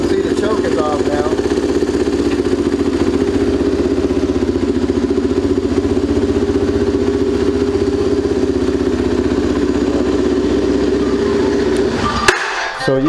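A 2004 Yamaha TT-R 250 dirt bike idles slightly high with the choke off after a Seafoam carburetor treatment, a steady close putter that cuts off abruptly near the end.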